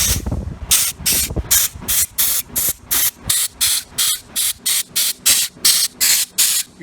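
Compressed air blows debris and fluid out of the main cap bolt holes of a GM LS V8 engine block, a rapid series of about fourteen short, sharp, loud hissing bursts in a steady rhythm, with no one speaking.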